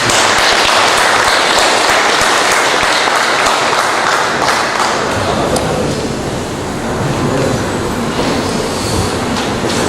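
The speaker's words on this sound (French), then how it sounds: "joignez-vous à moi pour accueillir Bruce Stroh avec vos applaudissements" An audience at a cement depot opening event gives dense, loud, sustained applause that washes over the room for about ten seconds and eases slightly toward the end.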